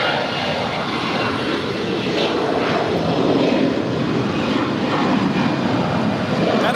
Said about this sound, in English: That is Alaska Airlines Flight 278 departing to Los Cabos. It's a 9-year-old Airbus A320.